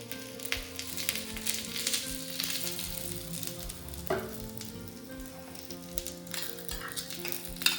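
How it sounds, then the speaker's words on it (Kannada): Coconut oil sizzling with mustard seeds on a hot stone, a steady close crackling fry with scattered pops and seed spatters throughout, no voices. "ತೆಂಗಿನ ಎಣ್ಣೆ ಇದರ ಮೇಲೆ ಹಾಕೋದು, ಕಲ್ಲಿನ ಮೇಲೆ, ಬಿಸಿ ಕಲ್ಲಿನ ಮೇಲೆ."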